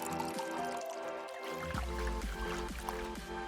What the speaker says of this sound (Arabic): ونضيف مية.